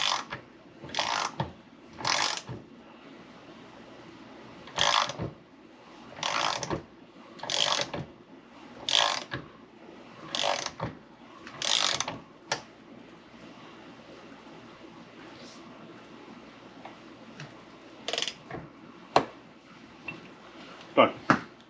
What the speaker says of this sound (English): We got ourselves a torque wrench. Have it set for 27. So we'll just tighten her down.